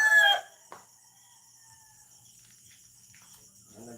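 Chickens at a Filipino home setting, with a loud rooster crow burst at the start, then quieter scattered clucks and faint insect or cricket background; no talk.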